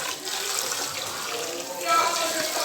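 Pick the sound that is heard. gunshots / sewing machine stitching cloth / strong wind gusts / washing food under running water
washing food under running water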